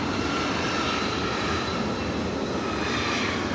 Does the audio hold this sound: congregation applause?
no